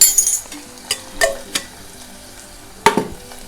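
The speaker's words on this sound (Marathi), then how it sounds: "चांगलं हे परतून घ्यायचं तेलावर" Ginger-garlic paste and coriander sautéed in oil for a Konkani crab curry, with a spoon scraping and clinking against the pan in several separate strokes over a low background sizzle.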